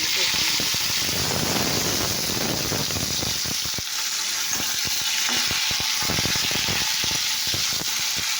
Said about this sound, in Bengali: তো দেখো আলু, তেল পাঁচড়ে দিয়েছি, আলু দিয়েছি, এরকম বেগুন